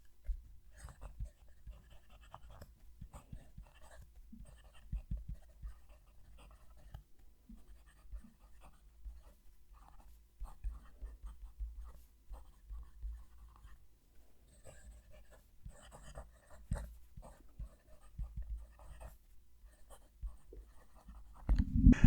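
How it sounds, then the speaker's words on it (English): A medium-nib fountain pen writes a sentence on paper, giving faint, close, scratchy strokes in short bursts with small pauses between words, quiet throughout. "I'll move the mic down to the page and write a sentence"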